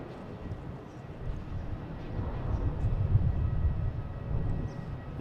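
A Delta airliner from Detroit arrives at Boston Logan, lining up on runway 33. Its engines make a faint, distant rumble that swells gradually and holds steady.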